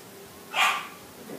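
A single sharp bark from a dog, loud and close against quiet background hiss.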